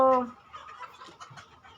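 Kaveri country chickens running to the side give a short cluck at the start, followed by faint scuffling and quiet background sounds.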